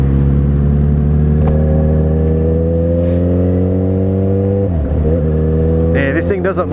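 Engine of a 2012 Yamaha FZ6R motorcycle lugging in high gear at low revs, a steady close droning hum with a brief dip and stutter near the end as it runs jerkily.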